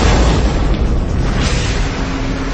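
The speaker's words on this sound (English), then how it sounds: "An explosion uproots 60 million trees and devastates more than 800 square miles of the countryside." A deep, booming explosion sound effect evokes the 1908 Tunguska blast over the central Siberian forest, a loud, sustained low rumble that fills the whole stretch and fades slightly at the end.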